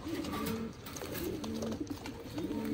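Pigeons at a breeder's loft coo in a steady series of low, throaty rolling calls, several birds overlapping nearby, repeating every second or so over a constant background hum, with no talking.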